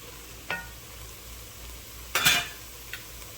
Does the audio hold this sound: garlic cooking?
yes